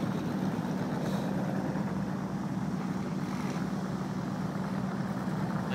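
Front-wheel-drive race cars idle and rumble on an ice track at a winter race. A steady, dense engine drone fills the clip at moderate level, with no talking.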